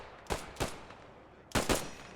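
Machine gun bursts in the Post Scriptum war game: two short, sharp rattling bursts close together, a pause, then another pair, loud and close with no talk.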